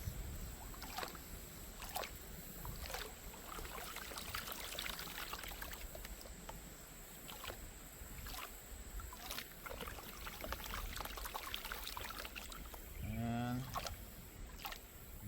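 Water sloshes and swirls in a gold pan as material is washed down toward black sand. The trickling and splashing is steady and fairly faint, with soft periodic knocks and a brief voice near the end.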